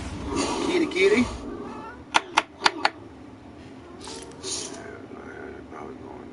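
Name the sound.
cat meowing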